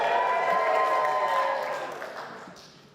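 Crowd at a poetry night at the Bradford Literature Festival cheers and claps loudly, a bright burst of applause and whoops that gradually fades over a few seconds.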